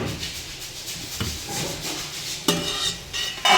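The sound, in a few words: masala ingredients poured into mixer grinder jar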